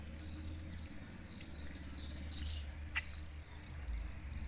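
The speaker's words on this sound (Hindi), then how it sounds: "ये पक्षी हैं, चमगादड़ बोलते हैं, नहीं पक्षी चिड़िया हैं, चिड़ियाँ हैं" Small birds chirping around a rural Rajasthan village in the evening, bright scattered tweets over a low steady hum with insects faintly buzzing underneath.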